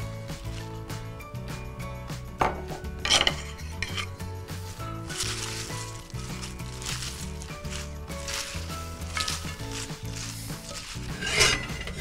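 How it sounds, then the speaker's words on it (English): Baby spinach leaves and cooked lentils are tossed together in a bowl for a warm beef and lentil salad, with soft scraping and knocking against the dish under steady background music. "So now combine the spinach leaves, baby spinach, and the lentils, and give them a good mix together."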